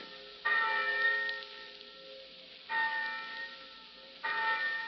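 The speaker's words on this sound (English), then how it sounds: "thousands of eager college freshmen will hear a bell like this, calling them to their first college class" College campus bell rung in three bursts, each a bright metallic clang with sustained ringing overtones that slowly decay, moderately loud and heard alone without talk.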